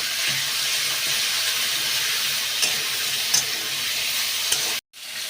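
A ginger and cumin spice paste sizzles steadily in a hot pan for vegetable khichdi, a close, continuous frying hiss with a few faint stirring scrapes, briefly dropping out before resuming.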